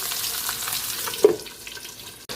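Fried dalagang bukid fish going into a simmering pot of dinengdeng with ampalaya and pork cubes: a steady soft sizzle and bubble, broken midway by one brief clunk as the fish drops in.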